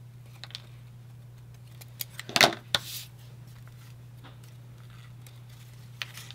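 Scissors snip through a paper snowman frame for a holiday scrapbooking project: a few light, scattered clicks, then a short burst of crisp, close cutting midway, all over a steady low electrical hum with no talking.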